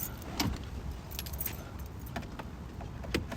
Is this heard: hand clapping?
no